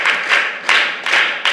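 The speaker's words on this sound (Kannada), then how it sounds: "ಅವಳಿಗೆ ಒಂದು ಚಪ್ಪಾಳೆ ತಟ್ಟಿರಿಲ್ಲ" An audience at a high school event claps for a child who sang, brisk close handclaps arriving in short bursts of about four pulses with quick gaps, and no voices.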